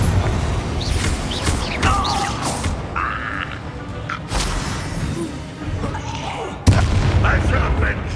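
Booming spell explosions in the video game Hogwarts Legacy, several heavy blasts spread through a busy battle mix with sharp impacts and a loud burst near the end.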